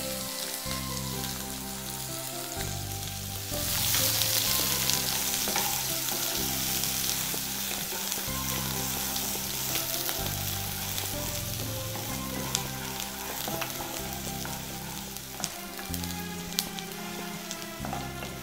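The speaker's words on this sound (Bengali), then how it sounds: "পেঁয়াজটা ভালো করে ভেজে নিচ্ছি।" Chopped onion fries in a pan for a Bengali prawn paste dish, a dense crackling sizzle like light rain that surges briefly, with occasional stirring clinks underneath.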